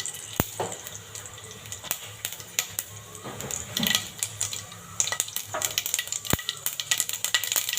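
Mustard seeds and cumin splutter in two to three spoons of hot oil in a pan for an okra stir-fry, a steady close crackle and sizzle with sharp pops scattered throughout.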